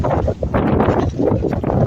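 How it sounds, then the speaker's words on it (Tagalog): Strong wind at El Nido in the Philippines buffets the microphone in a steady, roaring rush with gusty swells, no other clear sounds above it. "Malakas nga kasi hangin."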